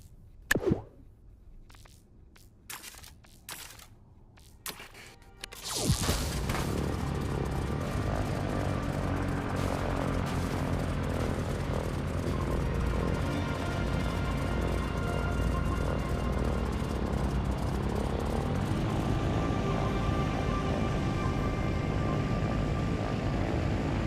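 A helicopter in Trailmakers settles into a steady, continuous rotor drone after a few scattered clicks and knocks, holding an even idle hum for nearly twenty seconds with no talk.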